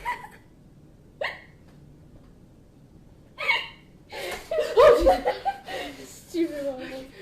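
A person has the hiccups: three sharp, separate hiccups come a second or two apart, followed by a burst of giggling and laughter with more hiccup-like catches mixed in.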